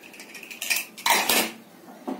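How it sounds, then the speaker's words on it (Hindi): A metal pressure cooker lid, used for cooking ridge gourd poda pitha, is opened with a short run of close metallic clinks and a scraping clatter, then a final light tap, and nobody talks. "प्रेशर कुकर ढांकुणी की खोली देवा"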